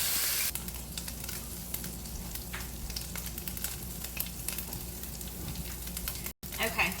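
Fatty ground chuck browns in a pot, a dense crackling sizzle with scattered pops that drops out briefly near the end before resuming.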